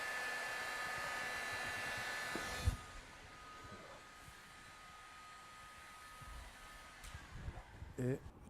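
A heat gun blows steadily while heating vinyl wrap on a car body, a continuous airy hiss that cuts off partway, followed by faint handling noises and a voice talking.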